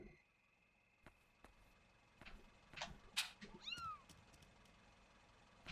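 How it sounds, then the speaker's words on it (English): A quiet white cat in Yomawari: Night Alone lets out a few short meows in quick succession over faint background hum, with a couple of soft knocks before. "It's a white cat."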